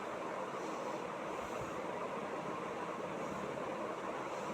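Onions sautéing in hot oil on an induction stove with mustard seeds, urad dal and dried chillies, giving a steady, soft, even sizzle with no voices.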